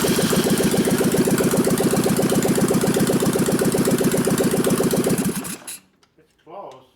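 A 1989 Harley 93ci panhead stroker motor in a softail idles loud and close with a fast, lumpy pulsing beat, then abruptly dies as it runs out of fuel, leaving near silence and faint sounds.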